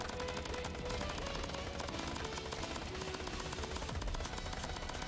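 Nonstop rapid gunfire in the third-person shooter game Crab Champions, a dense and unbroken stream of shots at steady loudness.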